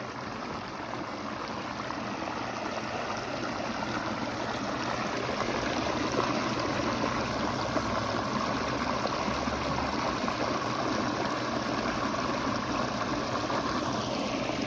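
Water rushes and trickles continuously through a pondless waterfall stream over river rock, a steady close wash of flow with no talking.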